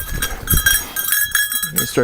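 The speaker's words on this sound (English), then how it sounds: "Goats can get really curious" Goats on a winter farm bleat and shuffle nearby in short, uneven bursts, with a person talking over much of it and some clattering in the background.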